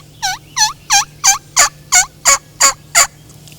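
A mouth diaphragm call imitates a hen turkey, producing nine evenly spaced, sharp clucking notes in a steady rhythm, loud and close with no talking.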